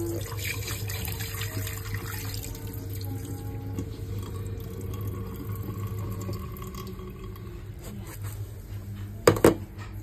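Rice being rinsed in a sink under a running tap, prepared for chicken rice: a steady stream of water and sloshing throughout, with a couple of sharper knocks near the end.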